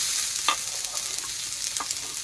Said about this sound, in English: fry it in 2 tablespoons of oil.